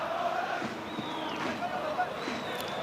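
Football fans in the south stand chanting at Catania versus Acireale, a steady distant crowd roar with whistles, heard under a commentator talking.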